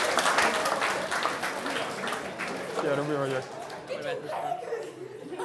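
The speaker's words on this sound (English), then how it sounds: "Applause, applause, people." Audience applause at a live demonstration, steady clapping that runs the full length and fades slightly toward the end, mixed with crowd chatter and some laughter.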